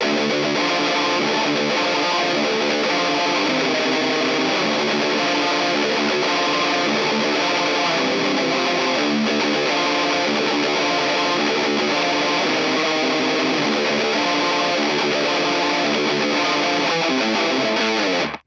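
Distorted electric guitar riff from a black metal song in D standard, with dense chugging on the low string, played loud and continuously for about eighteen seconds with no talking.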